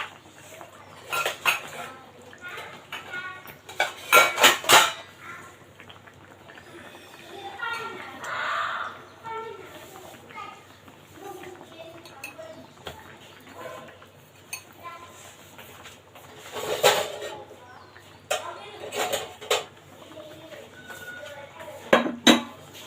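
Silver carp curry being served in a kitchen: bright clinks and scrapes of dishes and utensils arrive in short clusters between quieter stretches while a person talks throughout.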